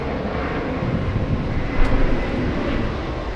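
A Delta airliner roars on takeoff at JFK Airport, a loud, broad, continuous jet rumble with wind buffeting that swells briefly midway.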